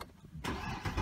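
A 2012 Mercedes-Benz C63 coupe's V8 engine cranks and catches, roaring to life abruptly after a brief quiet moment, close and loud.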